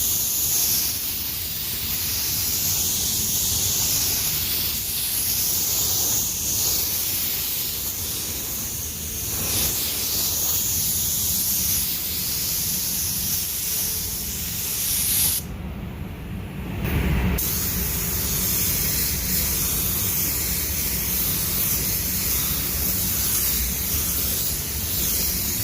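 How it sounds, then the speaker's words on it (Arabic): Spray gun used to paint a car bumper, blowing only air with no paint coming out: a steady, loud, close hiss that runs nearly unbroken, with one short dip partway through. "ارفع ايدك بص اهو الهواء شغال لكن مفيش ايه دهان طالع"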